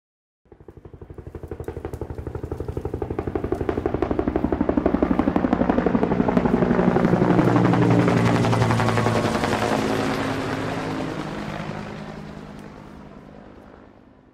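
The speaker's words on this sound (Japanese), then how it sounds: "ヘリコプターの音。" A helicopter thunders close by with rapid, steady rotor chopping over a heavy engine drone, loudest in the middle and slowly receding, with no voices.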